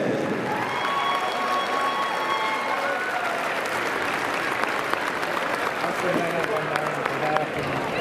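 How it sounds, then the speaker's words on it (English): A crowd applauds both teams at the Maine Class D girls basketball state championship, Valley vs Central Aroostook, in a gym. Steady, sustained clapping with faint voices mixed in, holding at an even level throughout. "Let's give both teams a round of applause"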